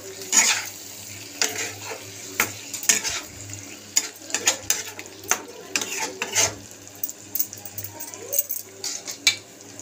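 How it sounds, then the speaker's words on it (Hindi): Potatoes are stirred into cooked masala in a pan for dum aloo: a spoon scrapes and taps the metal pan over a soft steady sizzle, with irregular clinks repeating throughout, close and fairly loud. "मसाला हमारा अच्छे से पक गया है इसमें ऐड करेंगे आलू मिला लेंगे"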